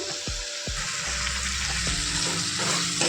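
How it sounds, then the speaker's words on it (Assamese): Spices sizzle steadily in a pan for a country chicken curry, broken by a few sharp scrapes of a spoon stirring; close up, continuous, no talking. "অলপ ভাজি ল'ব লাগিব, কেঁচা গোন্ধটো যোৱালৈকে"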